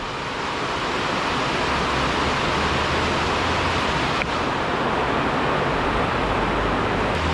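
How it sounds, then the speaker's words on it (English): Dense, steady rain hisses without pause, a broad even wash of falling water with no voices. "there's steady rain coming down"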